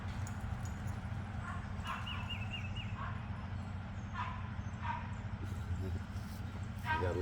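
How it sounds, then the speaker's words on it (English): Puppies bark in short yips and let out thin, wavering whimpers, scattered across several seconds over a constant low background rumble. "look at the dogs"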